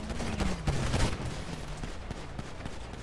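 Dense gunfire in Grand Theft Auto V roleplay, a loud continuous burst of rapid shots with a falling whine behind it, then scattered single reports.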